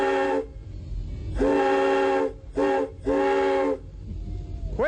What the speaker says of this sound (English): Well, let's blow the whistle.